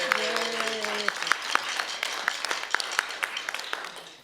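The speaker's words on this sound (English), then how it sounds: "Let's give him a round of applause, please." Audience applause and clapping for a percussion camp staff member at a middle school event, starting right after a person speaking and continuing as scattered, fairly faint claps.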